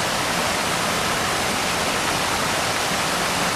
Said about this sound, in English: Some waterfall.